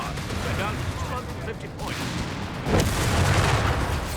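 A 17-pounder anti-tank gun fires amid the dense battle din of Company of Heroes 3, a heavy boom landing late over continuous rumble and scattered gunfire, with a commentator talking throughout.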